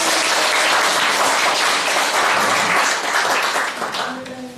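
Crowd at a Korean taekwondo international agreement signing ceremony applauding, a full, dense burst of clapping that holds steady and then thins out and fades near the end as a voice begins.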